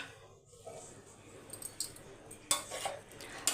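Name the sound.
stirring paneer fried rice in a pan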